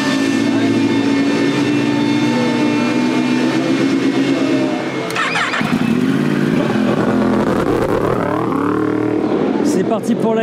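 A racing motorcycle in a qualifying session: a loud, steady engine whine with sharp revs and gear-change dips, then rising pitch sweeps as it accelerates, heard from on or near the bike.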